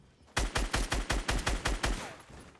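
Rapid gunfire in the video game Fortnite, about ten sharp shots in a quick steady rhythm, loud and close, then a short fading tail.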